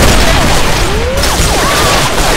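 A frag grenade blows up in a first-person shooter game. The blast comes as a loud, dense rumbling burst with crackling debris that fills the whole short stretch.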